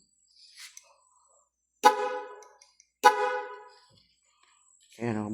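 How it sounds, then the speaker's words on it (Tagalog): Two short, loud honks from an aftermarket auto horn a second apart, followed by a brief voice speaking nearby in an otherwise quiet space. "Ayan o, busina."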